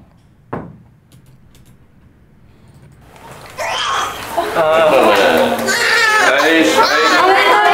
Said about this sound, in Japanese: 赤ちゃんの可愛い泣き声から始まります。